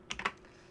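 A short burst of computer keyboard typing while entering a router configuration command, three or four quick close keystrokes that then fall silent, with no voice.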